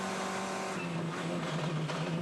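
Formula 4 race cars at Sydney Motorsport Park running at over 200 km/h during a wheel-to-wheel battle, giving a steady, loud engine drone with sustained high-pitched tones and no break across the clip.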